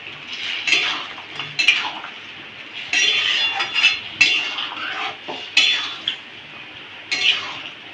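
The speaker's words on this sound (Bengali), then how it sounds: "দিয়ে তরকারিটা ভালো করে নাড়িয়ে চাড়িয়ে দিতে হবে।" A metal spoon stirs and scrapes through a pot of curry with lentil fritters, jackfruit seeds and pointed gourd. Irregular clinking and scraping bursts repeat close by over a steady kitchen hiss, with no talking.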